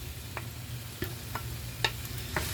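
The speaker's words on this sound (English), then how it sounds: "Just mix it in." Spoon stirs calzone filling in a bowl, a quiet close scraping with a handful of distinct clicks and taps against the bowl spaced out over a low steady background hum.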